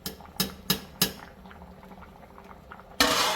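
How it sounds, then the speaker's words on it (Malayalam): Water bubbling and boiling steadily in a pot of rice, a few sharp clinks of a utensil at the start and a louder hissing burst near the end. "ഇനി ഈ വെള്ളം നമുക്ക് വറ്റിച്ചെടുക്കണം അപ്പോഴേക്കും ഈ അരി വെന്തിട്ടുണ്ട്"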